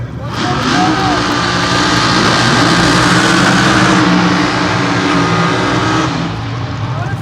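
Race cars roar around the track at MIR in a loud, sustained engine drone with a passing swell, while a voice talks over the noise.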